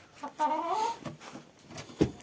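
Hens in a winter coop warmed by a homemade heater give a couple of short clucking calls close by, followed by a few faint scuffs and a brief sharp knock near the end, quiet overall.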